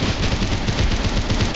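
Rapid gunfire in the Roblox game Scorched Earth, a dense loud burst of automatic shots rattling continuously with no voices over it.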